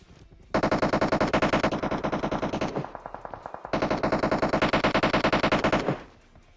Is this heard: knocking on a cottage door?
no